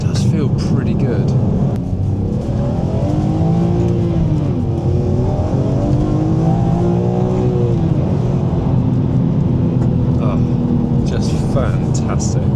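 A BMW E46 M3 engine drones steadily from inside the cabin, its pitch rising and falling with gear changes while someone talks over the noise.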